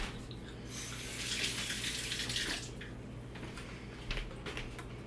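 Tap water running steadily to rinse dropped food in a kitchen sink during a culinary nutrition workshop, a broad continuous splash that swells mid-clip and then fades, with a few small clinks near the end.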